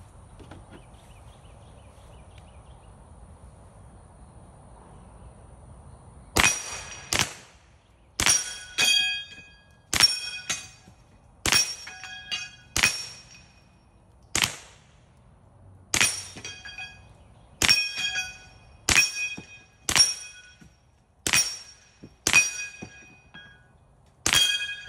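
A Taurus TX22 .22 pistol fires a steady series of shots at 15 yards, each followed by a bright metallic ring as rounds strike steel plates and spinning targets, about sixteen evenly paced hits after a quiet start.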